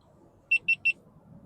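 Three short, evenly spaced electronic beeps sound in quick succession, used to sync camera recordings, standing out clearly over a low background rumble.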